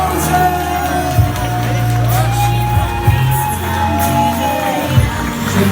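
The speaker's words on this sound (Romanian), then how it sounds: "Aplauze!" At a wedding, a crowd cheers and claps in a steady, dense roar, with shouts and whoops rising over a continuous wash of voices, close and loud throughout.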